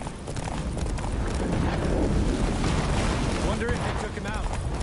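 Roach the horse galloping in The Witcher 3 as a blizzard closes in, a fast steady drumming of hooves mixed with a heavy roaring wind, loud and continuous, while characters talk over it.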